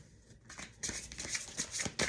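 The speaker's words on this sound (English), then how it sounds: "But I'm going to keep shuffling." Tarot cards being shuffled by hand: soft, papery riffling bursts that grow busier after the first moment, quiet and close, with no talking.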